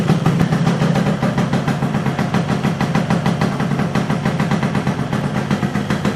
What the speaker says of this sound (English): What a lovely sounding machine. This is with the BTM Sport exhaust. Gives a nice deep tone